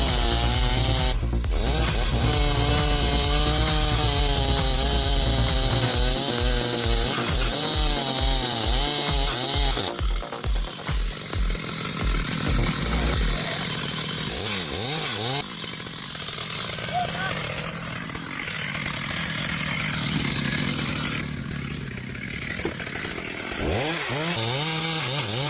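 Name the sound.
chainsaw cutting wood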